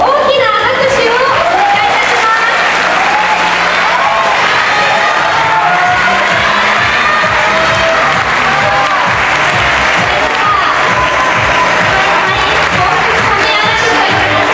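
Loud, sustained applause and cheering from an audience at the final event of a beauty contest in Abeno, filling the whole stretch with dense clapping and a few shouts over steady crowd noise.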